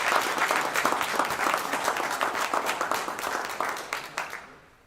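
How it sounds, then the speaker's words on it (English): An audience at a high school football rivalry recognition ceremony breaks into a lively burst of applause, dense clapping that gradually thins and fades out after about four seconds. "Let's give a big round of applause for Nicholas and his family."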